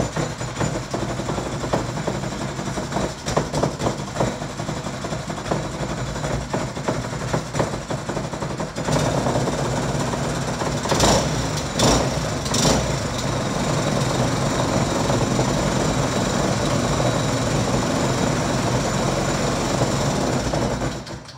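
Small water pump engine running after a pull start, a loud, continuous rattling drone heard close up, with a few brief sharp clatters partway through and no talking.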